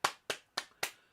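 Four sharp hand claps at an even pace, close and fairly quiet, each a crisp slap with a short decay.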